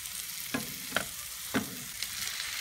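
Ham being stirred in a pan for carbonara, with a steady faint sizzle broken by about four short scraping stir strokes, close and fairly quiet, no voices.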